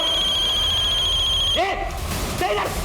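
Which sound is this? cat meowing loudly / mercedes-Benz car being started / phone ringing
phone ringing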